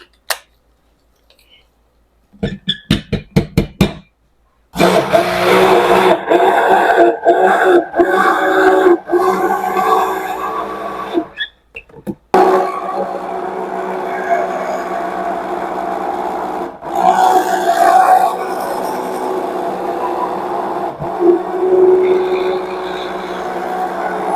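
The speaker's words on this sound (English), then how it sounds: "let's get our mixer hooked up" An electric mixer blends a batch of oat milk and honey goat milk soap, starting after a few short stuttering bursts, then running as a loud, steady motor whir with one brief dip partway through.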